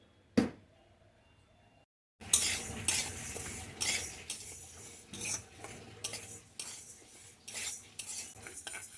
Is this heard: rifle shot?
no